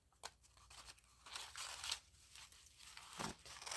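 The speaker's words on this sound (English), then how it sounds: "It's quite fun cutting this painty paper." Scissors snipping through textured, paint-covered paper up close, a quiet run of crisp crunchy cuts and papery rustles at an uneven pace, with no voices.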